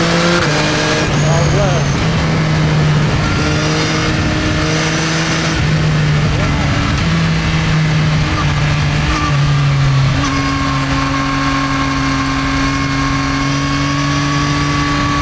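A 2023 Yamaha MT-09 SP motorcycle engine runs loudly and steadily up close, its pitch rising and shifting as the rider revs through the gears, with a voice talking over it.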